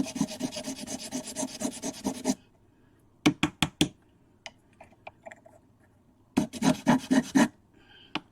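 Hand sanding of a plastic model kit part on a sanding pad, with steady rasping strokes for two seconds, a pause with a few sharp scrapes, then another burst of close rhythmic rubbing.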